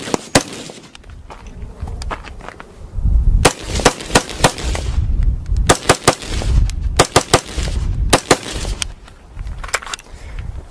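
Sharp, loud gunshots ring out from an Aero Precision M4E1 rifle fitted with a LaRue trigger. The shots come singly and in quick irregular clusters, each with a short echoing tail, over about ten seconds. No one speaks.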